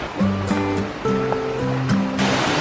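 Waterfall in Snowdonia National Park, North Wales, heard as a steady broadband rush of falling water, close and continuous, with faint tonal sounds over it.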